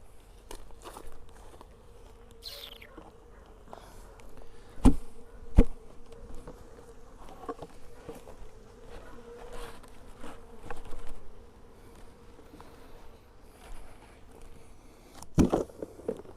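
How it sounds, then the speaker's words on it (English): Honeybees buzzing around an opened hive being robbed out while combining weak hives in Kentucky, a faint steady drone broken by occasional knocks and handling clatter close by. "There's a bunch of bees flying around where that one was."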